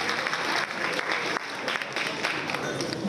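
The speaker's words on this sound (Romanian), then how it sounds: "Sunt aplauze pentru doamna Stella Popescu" Warm, continuous applause from a theater audience honoring actress Stela Popescu, dense and steady throughout, with crowd murmur underneath.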